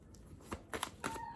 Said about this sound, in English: let me just shuffle it a little bit